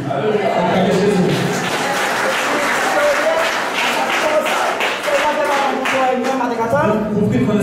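Church congregation at a French-language healing service claps and cheers loudly and continuously, a dense, sustained wall of applause with crowd voices and shouts mixed through it.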